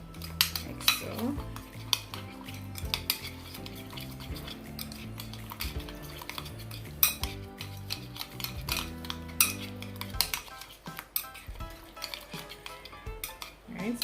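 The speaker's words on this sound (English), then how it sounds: "I'm just going to mix everything so it's nicely combined, like so." Seasoning for honey jerk salmon being mixed in a bowl, with steady clinks and scrapes of a utensil against the dish under music, close and moderately loud.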